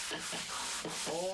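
Sandpaper rubs back and forth across a wooden surface in steady rhythmic strokes, faint and close, with no speech.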